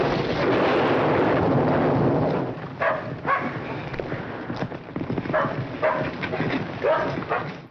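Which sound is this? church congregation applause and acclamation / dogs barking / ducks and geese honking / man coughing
dogs barking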